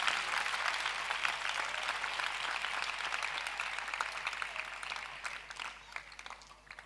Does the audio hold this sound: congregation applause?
yes